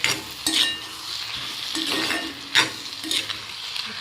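Masala Maggi noodles frying in a pan while being stirred, a bright steady sizzle with a few metallic scrapes and clinks from the utensil, close and fairly loud.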